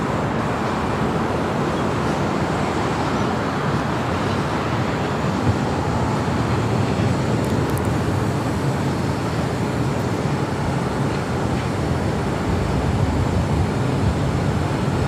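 A Northern Air Cargo heavy jet departing LAX runway 25 right produces a continuous, loud broadband engine roar with rumbling low end, sustained without break across the span.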